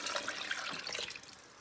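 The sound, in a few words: broth poured into minestrone soup pot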